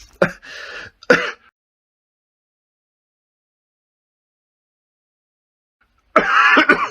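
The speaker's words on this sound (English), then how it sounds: "Persistent cough." A few harsh coughs sound close by, followed by a long silence and then another rough burst of coughing.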